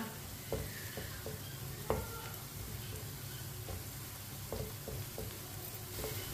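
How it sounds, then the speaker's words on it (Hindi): Finely chopped onion frying in a pan until lightly browned, a faint steady sizzle with occasional soft stirring taps of a spoon, quiet and close, no voices. "प्याज को हल्का सा ब्राउन कर लेंगे"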